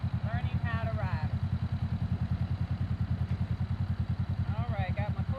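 A motorcycle engine idles with a steady, rapid low thumping pulse throughout, close and constant, while a voice speaks briefly over it at the start and end.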